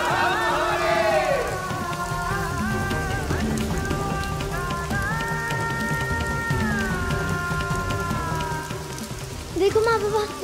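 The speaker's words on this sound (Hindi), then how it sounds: "देखो माँ बाबा, बारिश हो रही है" Steady rain falls in a continuous hiss beneath swelling dramatic music with sustained tones, loud and unbroken throughout.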